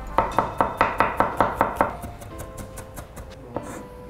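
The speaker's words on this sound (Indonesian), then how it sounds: "Bawang putihnya ini kita cincang halus" A knife finely chopping garlic on a cutting board, about nine sharp, evenly spaced close chops, then lighter, softer taps trailing off.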